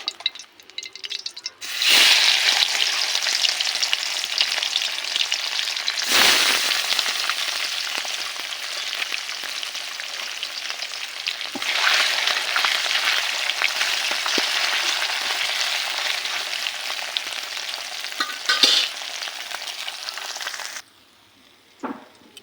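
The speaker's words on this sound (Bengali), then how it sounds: "একইভাবে বাকি মাছগুলো ভেজে নিব" Puti fish sizzling in oil in a pan, a steady loud frying hiss with brief breaks and a few clinks of utensils, cutting off near the end.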